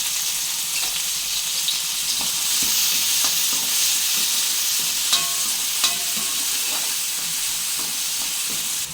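Chopped onion and green chillies fry with cumin in a pan, a loud continuous sizzle with occasional stirring scrapes and clicks running throughout.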